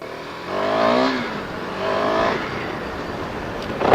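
A KTM Duke 390 motorcycle ridden and accelerating, with two rising engine pulls through the gears under steady wind and road noise.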